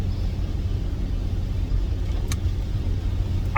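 Car interior while driving on a rainy day, a steady low road rumble and engine drone with soft hiss above, continuous and even, with a brief faint tick near the end.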